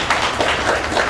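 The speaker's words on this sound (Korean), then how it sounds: "박수로 맞아주시기 바랍니다" Brief burst of steady audience applause welcoming the editor-in-chief of Women's News to the podium at a women's policy forum on the 21st presidential election, even and dense for about a second.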